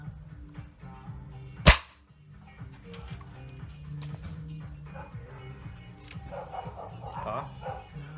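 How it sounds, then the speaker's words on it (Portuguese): A SAG R1000 air rifle fires a Pro Max pellet in one sharp, loud crack, followed by mechanical handling noise and low room sound. "Efetuar esse disparo aqui bem embaixo."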